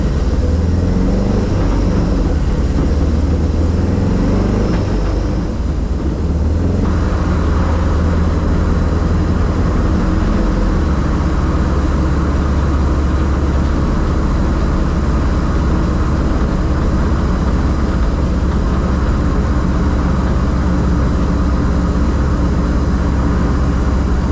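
An old red car cruises along a road at about 28 mph with a sticking throttle, its engine droning loudly and steadily as a low rumble under constant road and wind noise from inside the cabin.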